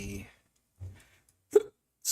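Several sharp, short hiccups in a quiet room, separated by brief silences, with a person speaking just before them.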